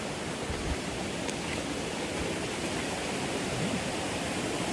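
Mae Kampong waterfall in Chiang Mai, a steady broadband rush of falling water that fills the scene evenly and continuously, close and fairly loud with no voices over it.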